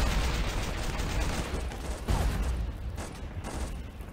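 Machine gun and rifle fire in the Flash game Warfare 1944: rapid, fairly loud bursts and scattered single shots crackle over a constant battlefield rumble.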